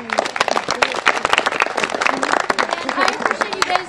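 Audience clapping at a family reunion tribute gathering, close and lively with distinct individual claps over a steady crowd patter, loud and continuous for several seconds.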